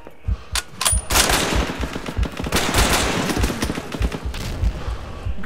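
Loud, close machine gun fire in a World War II shooter game, rapid sustained bursts with brief gaps, the rattling volleys dominating throughout.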